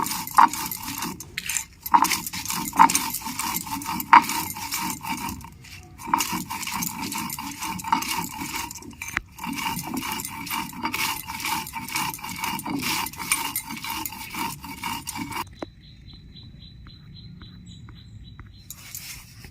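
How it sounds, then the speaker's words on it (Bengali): Crisp fried fuchka (pani puri) shells being crushed by hand in a kitchen: dense, continuous crackling and brittle snapping close by, with a few louder cracks, fading to near quiet near the end. "ফুচকাগুলো আমি বেটে নিচ্ছি।"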